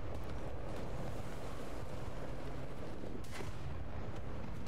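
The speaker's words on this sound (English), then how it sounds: "Who's shooting me?" Gunfire in a World of Tanks-style tank battle game with the B1 Lafayette: dense, continuous, roaring noise with booming shots and rumbling, loud and unbroken, with no talk.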